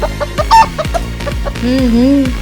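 A cartoon hen in an animated Telugu moral story clucks in quick short bursts, followed by a drawn-out wavering call over a light musical backing.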